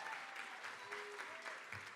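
Applause from a graduation audience at a City Year Philadelphia ceremony, steady dense clapping filling the room with faint voices mixed in, moderately quiet and continuous.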